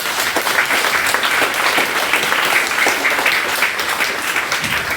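Steady applause from a church congregation at a Sunday communion service fills the space, many hands clapping in a continuous, fairly loud roll with a few sharper claps standing out near the end.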